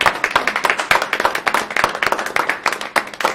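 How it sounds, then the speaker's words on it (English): A small group at a school district board meeting gives a round of applause, brisk, dense hand clapping sustained close by with no talking. "I just one more round of applause"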